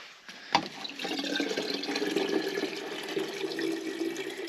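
Water splashes steadily onto young plants in a greenhouse, a continuous close pouring and spattering that starts with a brief knock and runs unbroken for several seconds.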